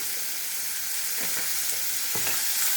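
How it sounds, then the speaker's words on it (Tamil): Ripe tomato with a little turmeric sautés in a pan, a soft continuous sizzle with a couple of faint stirring scrapes, quiet and close, no talking. "ஒரு தக்காளி வச்சுருக்கேன் நல்லா பழுத்த தக்காளி பெரிய தக்காளியாக கொஞ்சமாக மஞ்சத்தூள்"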